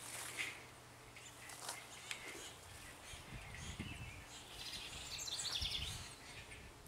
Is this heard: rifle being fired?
no